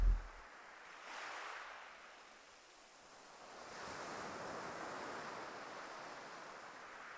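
A flowing mountain stream, a soft steady wash of water that rises and falls gently in intensity, quiet and continuous with no voices.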